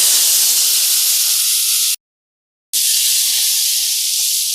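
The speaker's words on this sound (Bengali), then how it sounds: "কড়াইয়ে তেল দিয়ে দিয়েছি, তেলটা গরম হয়ে গেছে, এখন পটলটা ভেজে নেব।" Pointed gourd (potol) fries in hot oil in a wok with a steady, loud sizzling hiss that breaks off briefly in the middle and then resumes.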